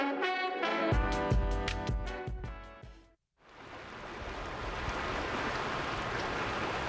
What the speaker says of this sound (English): The soothing sounds of a gently flowing creek.